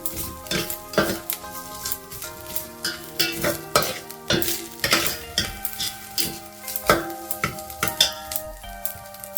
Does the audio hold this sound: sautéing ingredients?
yes